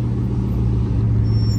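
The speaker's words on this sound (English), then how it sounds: "Random Veyron in traffic" A yellow Bugatti Veyron moves through street traffic during Monterey Car Week, giving a steady, loud, low engine rumble that continues without a break. No one speaks.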